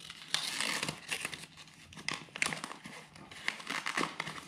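Small sheets of paper crinkling and rustling against Velcro on a chest rig, an irregular series of close, crisp crackles and tearing scrapes with brief pauses between bursts.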